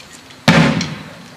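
Rifles are shouldered in unison during a flag-raising ceremony drill at an Acadian festival, making a single sharp clattering slap that decays quickly.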